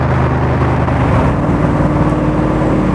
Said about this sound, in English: when you open the throttle, it's pure joy